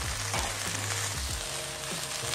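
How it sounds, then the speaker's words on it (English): Fourteen Kashmiri red chilies, some de-seeded, sizzling and frying with onions in a pan for tawa grilled butter chicken, a steady dense crackle with faint stirring scrapes, close and continuous with no talk. "Just saute them for 2 seconds."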